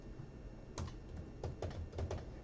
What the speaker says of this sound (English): I was just typing away